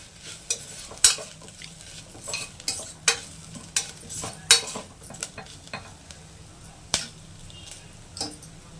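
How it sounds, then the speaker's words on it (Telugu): Masala spices sizzle in hot oil while being stirred for a cluster beans curry, with a steady low fry broken by sharp, regular scraping strokes of a spoon against the pan, close and clear. "మసాలా బాగా వేగాలి. నూనెలో మంచి గుమగుమ వాసన రావాలి."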